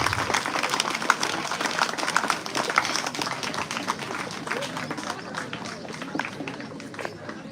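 Applause from an audience welcoming guests at a college farewell function in an arts college hall, a steady dense patter of many hands clapping throughout, fairly close and even in loudness.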